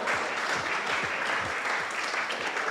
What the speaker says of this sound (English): Round of applause for Ryan